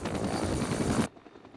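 Rotor and turbine roar of an Air Force search-and-rescue helicopter in flight, loud and steady for about a second before cutting off abruptly to a quiet cabin background.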